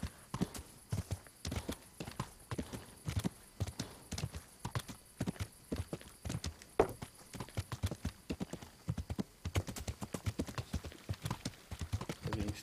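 Horse hooves clip-clop in a fast, steady galloping rhythm while riding through the medieval countryside in Kingdom Come: Deliverance, with crisp, evenly spaced footfalls continuing throughout at moderate volume.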